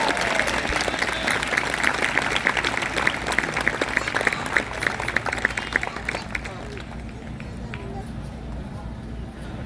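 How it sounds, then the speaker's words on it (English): Audience applauding for two Champion Award winners at a Bluecoats drum and bugle corps event, a sustained crowd clap with murmuring voices that thins toward the end. "So if you guys could all give them a hand"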